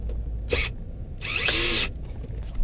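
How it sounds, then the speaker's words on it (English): A power drill runs in two short bursts, a brief whir followed by a longer, louder drilling spell, while mounting a cheap siren, with quiet pauses between. "nice and drilled in"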